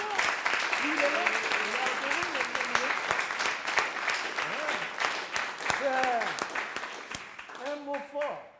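A church congregation claps and cheers in sustained applause, loud and continuous, with voices calling out over the clapping throughout.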